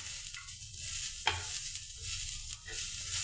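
Grated coconut and ten cashews dry-roasting in a pan, a faint, close hiss broken by occasional sharp scrapes and taps of a spatula stirring the mixture.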